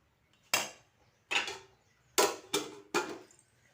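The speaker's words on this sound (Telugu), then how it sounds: "ప్లేట్లు వేసుకుందాను పెట్టుకో" Plates and spoons clatter as they are set out for a lunch, five distinct close clinks and knocks spaced about a second apart with quiet gaps between them.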